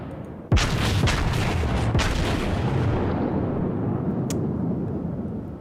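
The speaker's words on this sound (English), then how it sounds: "Fire one turret, observe the fall of shot, and then readjust" A low-tier US Navy battleship fires its turret guns in World of Warships: a sharp, heavy boom followed by a second shot a moment later, both trailing into a long rolling rumble that slowly fades, with a brief click near the end.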